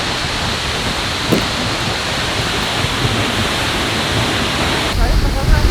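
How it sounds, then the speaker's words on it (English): A constant heavy roar of cascading water behind Seljalandsfoss waterfall in Iceland, close and enveloping, with a couple of faint knocks and a muffled bump toward the end. "We're about to go behind the waterfall."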